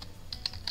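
A few quiet clicking keystrokes on a computer keyboard, three brief taps in under a second, faint and close with a low background hum.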